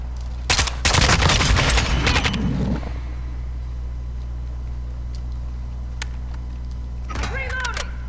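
Gunfire in the video game Call of Duty: a rapid burst of shots up front, then quiet game ambience and a short later volley, under a low steady hum.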